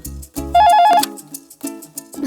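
Cartoon telephone ringing in two short, bright electronic trills, with brief musical tones around them.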